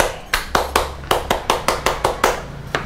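Rhythmic Indonesian scout clap (tepuk pramuka) during a cooking session: about a dozen sharp, close hand claps in a quick, slightly uneven pattern, with a faint low hum underneath and no talking.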